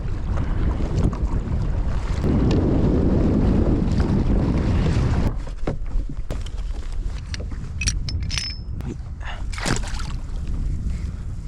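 Strong wind buffets the microphone on a boat at sea, a loud roaring gust that eases after about five seconds into lighter wind with water splashes and clanks of gear.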